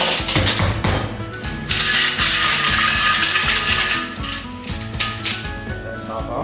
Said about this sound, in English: I'm going to add my ice. I'm going to shake it up.